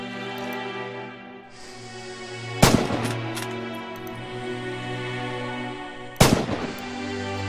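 Two sharp, loud rifle shots from the Red Orchestra 2: Heroes of Stalingrad battlefield, a few seconds apart, each with a rolling echo tail over a steady background tone.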